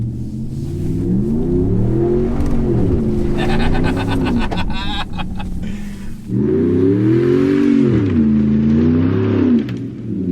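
A 2019 Ram Rebel pickup truck climbs a grassy hill in winter with traction control off; its engine roars and revs hard, loud and close, dipping briefly midway before surging again.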